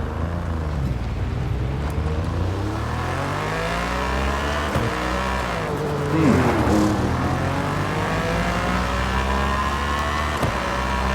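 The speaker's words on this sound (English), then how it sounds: "This car kind of doesn't really sound like what I was hoping it would sound like" Cadillac race car in Forza Horizon 5 with a loud, droning engine climbing and dropping through gears, revving continuously close up with a brief surge midway.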